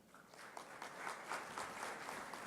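Warm applause from an audience welcoming the rector of Universidad San Ignacio de Loyola, a steady, fairly distant wash of many hands clapping that holds throughout.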